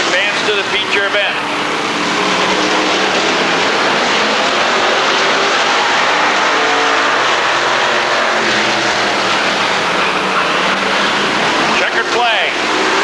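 Race cars lapping the Rockford Speedway oval during a 1999 Bahama Brackets heat race: a loud, continuous engine roar that swells and fades as the pack passes, with a voice mixed in.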